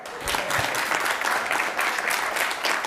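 An audience in a room applauds at a live talk, steady dense clapping with scattered cheers and shouts filling the full three seconds at close range.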